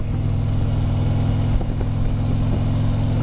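A Harley-Davidson motorcycle engine hums steadily while riding along a road in Chelsea, Michigan, with constant wind rush and a low, even drone throughout.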